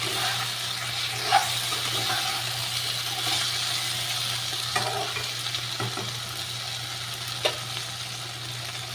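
Okra and potatoes fry in a pan with a soft, continuous sizzle, broken by a few sharp stirring clinks and scrapes at intervals; fairly quiet, no talking.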